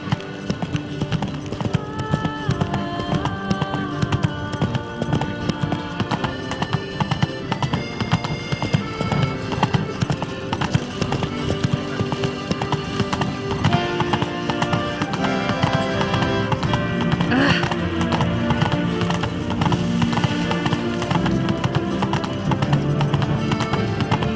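Roach the horse gallops in The Witcher 3: Blood and Wine, with fast, continuous clip-clop hoofbeats up close that stay steady for the whole stretch.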